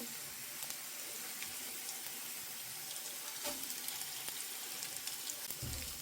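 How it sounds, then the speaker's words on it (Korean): Garlic and anchovies fry in a pan with a steady, faint crackling sizzle that runs throughout, with no talking. "마늘을 일단 볶고 멸치를"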